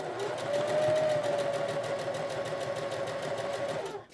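A home sewing machine stitching quilt pieces runs steadily for about four seconds with a fast, even mechanical whir and rhythmic needle chatter, close and fairly loud, before stopping abruptly at the end.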